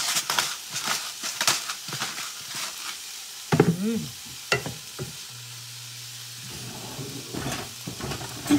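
Peppers frying in a pan while being stirred: a steady sizzle with scraping, clattering utensil strokes close up, and no talking.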